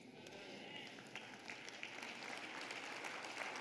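A church congregation claps quietly, a soft scattered patter of hands that swells slightly, with a faint murmur of voices underneath.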